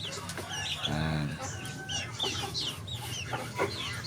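Native hens and chickens cluck and call in a busy, overlapping chorus during feeding, with one louder nearby cluck standing out among scattered bird sounds; no talking is heard.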